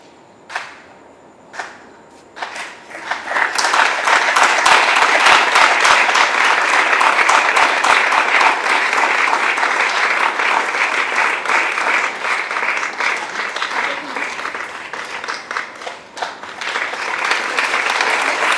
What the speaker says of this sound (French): Encore des applaudissements pour elle, s'il vous plaît.